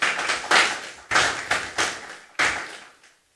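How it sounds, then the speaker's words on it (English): Scattered claps at an evening awards ceremony in Mayaro, a handful of separate, ringing bursts in a reverberant hall that trail off into silence. "Let's give them a round of applause"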